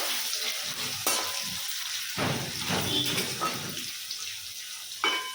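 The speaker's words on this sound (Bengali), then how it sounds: "এবার আলুগুলো একটু ভেজে নেব।" Potatoes sizzle in hot oil close up, a steady crackling fry broken by a few scraping stirs, with no voices.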